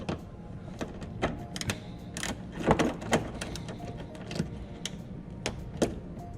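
Wrench work on an 8mm bolt on the bumper of a 2010 Mazda 6 estate, heard as a series of short close clicks and ratcheting scrapes spaced irregularly over a low background hum.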